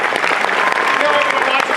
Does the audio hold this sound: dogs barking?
no